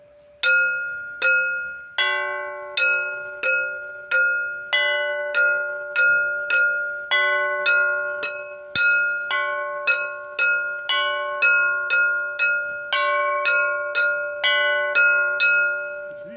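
A metal brake shoe struck again and again, each hit ringing out like a church bell with long overlapping resonance, steady rhythm, loud and close, no voices.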